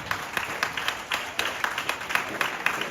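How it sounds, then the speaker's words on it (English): Parents applaud at a high school prize-giving ceremony, a steady round of hand clapping with distinct individual claps popping out of the crowd noise. "I hear the parents clapping"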